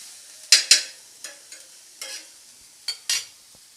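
Maggi noodles tossed in a hot pan on a gas stove: a series of about eight quick scraping, sizzling swishes, close and crisp, each fading fast, with quiet gaps between.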